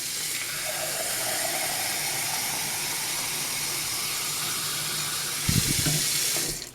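Tap water runs into a cup in a home kitchen, a steady hissing stream throughout that ends with a brief low thump near the close.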